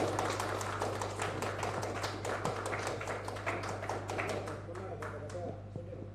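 Applause from an audience welcoming a guest at a Tamil astrology talk event: dense, steady clapping throughout at a moderate level, a low constant hum beneath it.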